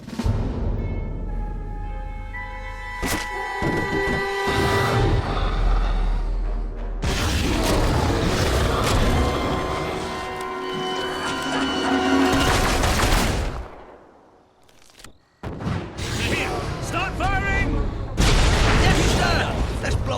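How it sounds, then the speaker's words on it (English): Explosions and bursts of gunfire in Fable 3, dense loud blasts and crackling booms filling most of the stretch, briefly dying away before another loud burst, with a voice speaking among them. "Now that was a handsome explosion."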